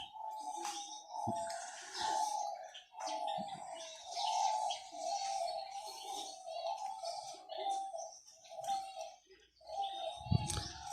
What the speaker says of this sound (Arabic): هاي محمية الفاخت الأحمر المعجون